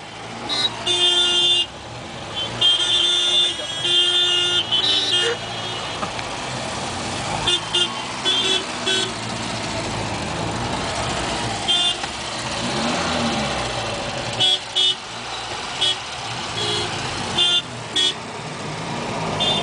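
Busy Mumbai road traffic with cars, trucks and a bus close by, car horns honking repeatedly in short bursts over a steady engine rumble, loud and near, with no talking.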